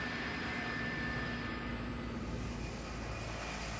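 Airliner flight AA587, an American heavy jet, holds ready for takeoff with a steady, moderately loud engine roar and faint tonal whine, continuous and unbroken with no voices.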